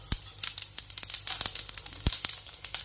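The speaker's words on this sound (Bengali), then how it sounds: "তেলটা গরম হলে গোটা জিরে ফোড়ন দিয়ে দেব" Whole cumin seeds sizzling in hot oil in a wok, a close, faint crackle with a steady run of sharp little pops and spits, no voices.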